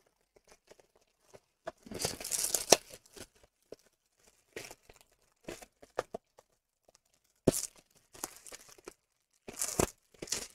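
A Stranger Things DVD is unwrapped from its packaging. Plastic crinkles and tears in quiet, close bursts, with longer rustling rips separated by short pauses.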